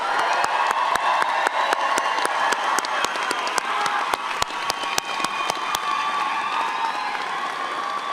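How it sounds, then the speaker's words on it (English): A commencement ceremony audience breaks into sustained applause, thick crowd clapping mixed with some cheering and a few distinct sharp claps punctuating it, easing slightly toward the end. "let's give your family and friends a round of applause"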